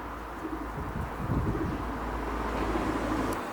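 Show pigeons coo softly in a loft in Middlesbrough, a few low rounded calls rising out of a breezy background hiss with some wind buffeting the microphone.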